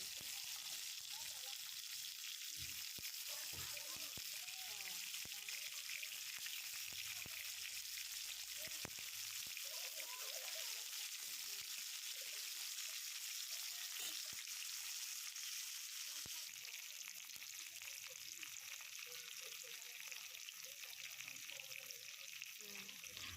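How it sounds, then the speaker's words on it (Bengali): Pointed gourds fry in oil in a pan, a faint, even crackling sizzle running throughout with occasional light taps and scrapes. "পটলগুলো আমার ভাজা হয়ে গেছে"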